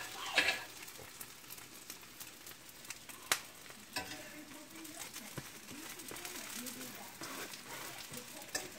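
Bread cooks in a frying pan for a quick breakfast, making a quiet, patchy sizzle broken by a few sharp ticks and clicks, with speech in the background.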